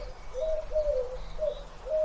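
Pigeon or dove cooing outdoors, a soft repeated coo in a steady rhythm of about four phrases, moderately near over a low background hum.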